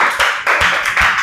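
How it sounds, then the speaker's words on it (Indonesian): Classroom applause for a student group after their presentation: a dense, steady wash of many hands clapping at once, loud and close, with brief swells in intensity roughly every half second and no voices over it. "Oke, tepuk tangan untuk kelompok ini semua."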